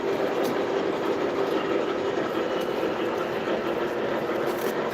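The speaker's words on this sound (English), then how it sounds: "It's a little SW8 switcher in Reading and Northern." A small SW8 switcher locomotive on the Reading and Northern railroad rolls by with a steady rumble and rhythmic clickety-clack of wheels over rail joints.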